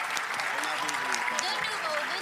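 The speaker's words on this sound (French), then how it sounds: "En tout cas, applaudissez-la." Audience clapping at a Louisiana-themed cabaret show, a soft, steady patter of applause that is fairly faint, with a voice speaking over it.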